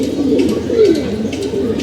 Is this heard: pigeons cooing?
yes